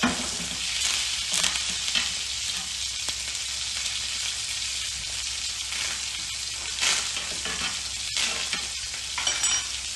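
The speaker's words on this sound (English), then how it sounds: "So it's constantly keeping that steak covered in 120 degree foaming butter." A steak frying on a stovetop pan in foaming butter while being basted, a loud, continuous sizzle with bursts of spattering and occasional scraping of a spoon.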